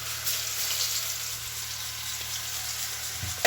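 Onions and garlic frying in a hot pan, a steady close sizzle with a broad hiss holding evenly throughout, and a brief clatter right at the end.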